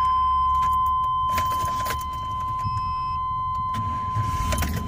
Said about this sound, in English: I'll just start it manually.